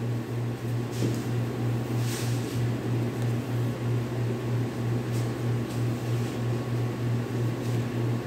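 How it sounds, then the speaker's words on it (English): A steady low mechanical hum from an air conditioner running in a workshop, constant droning noise, fairly quiet and unchanging throughout. "The noise you're hearing is the AC unit running here in the shop."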